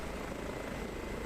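An Airbus H145 helicopter in Microsoft Flight Simulator, flying an air-ambulance mission over the Italian Alps near Bolzano. A constant, dense rotor and engine drone plays loud and unbroken, with no voices.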